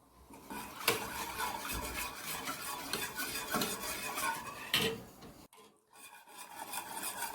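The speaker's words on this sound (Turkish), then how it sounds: "Sütlü irmik tatlımızı karıştırmaya devam ediyoruz." A spoon scrapes and stirs milk semolina pudding in a pot, a steady close rasping and rubbing with a few sharper metallic knocks and a short pause near the end.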